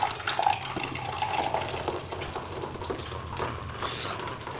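Brewed coffee pours in a steady, soft liquid stream into a blender, a close trickle running the whole time at low volume with no voices.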